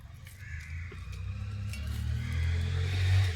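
A crow caws a few times over a low, rising rumble that may be a passing car outdoors.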